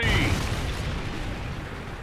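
A Trinity rocket strike in Call of Duty Ghosts lands as a deep, loud explosive boom that rolls off into a fading rumble over a couple of seconds. A voice is faintly present.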